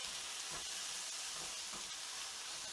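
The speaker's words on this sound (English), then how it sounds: "just going to mix that all around, really just until those onions start to brown a little bit" Onions frying in a pan, a steady dense sizzle with soft low scrapes and thumps of stirring underneath, close and continuous, nobody speaking.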